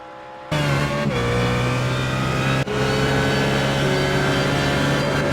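Race car engines in a GT simulator racing game at Mount Panorama, a loud sustained engine drone with layered harmonic tones, gear shifts and a second car running alongside.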